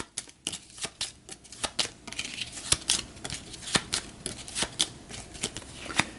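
Board game cards for Terra Mystica riffled and shuffled by hand on a table, a quick run of crisp papery flutters and snaps close up with no talk.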